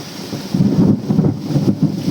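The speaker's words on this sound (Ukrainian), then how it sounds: "Перший літній дощ у нас." Warm early-summer rain falls steadily while low thunder rumbles in rolling waves beneath the patter.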